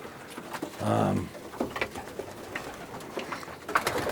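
Racing pigeons in a loft give a soft, throaty coo up close, followed by scattered rustling, shuffling and fainter background calls.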